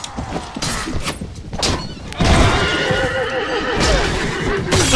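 A horse in the medieval battle game Mount & Blade Warband gives a loud, shrill neigh. A thud and clattering hooves follow amid busy combat noise.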